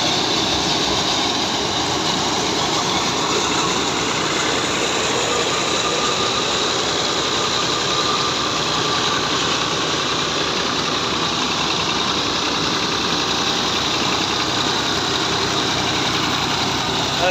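A Batala thresher driven by an old Fiat 480 tractor from around 2000, threshing berseem seed: a loud, steady mechanical drone with a rhythmic low engine thrum and rattling, continuous and close.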